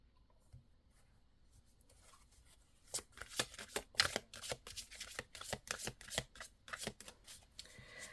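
Tarot cards shuffled by hand, quiet at first, then a rapid run of crisp riffling flicks, close and alone.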